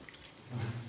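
Water running from a tap into containers during a water shortage in Algeria, a short burst of gushing, splashing flow that swells near the end, close and fairly loud.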